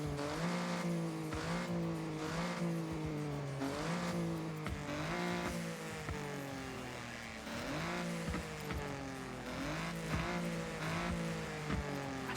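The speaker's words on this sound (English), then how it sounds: "I'm not so sure about that exhaust noise." An engine and exhaust note in a car video game, revving and climbing in pitch again and again through repeated gear shifts, loud and continuous with occasional tire squeal.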